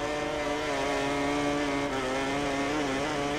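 A racing motorcycle at full throttle in the MotoGP 20 game, ridden at the Red Bull Ring, gives a steady, buzzing high-revving engine whine that holds and shifts pitch slightly, loud and continuous with no talk.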